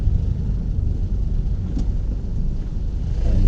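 A Ford car with fault code P1289 rumbles along on a test drive, a steady low engine and road drone heard from inside, swelling slightly toward the end.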